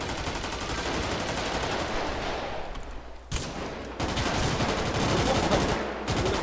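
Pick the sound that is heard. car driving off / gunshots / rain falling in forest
gunshots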